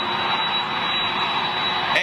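A jet airliner roars steadily as it touches down at Manchester airport, a loud, continuous broadband rush close by.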